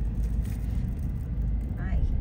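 Road traffic on a busy Christmas Eve street in La Trinidad gives a steady low engine rumble from nearby cars, heard from inside a moving vehicle under a faint voice.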